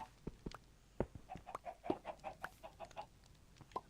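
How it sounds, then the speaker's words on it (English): Minecraft chickens cluck in a game, giving a quick series of short, clipped clucks at an irregular rhythm, fairly faint with no voices. "we've got chickens everywhere again?"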